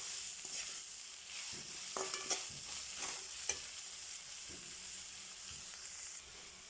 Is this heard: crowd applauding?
no